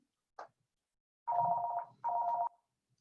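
A telephone rings indoors in two sustained electronic trills with a short gap, preceded by a faint click, otherwise quiet.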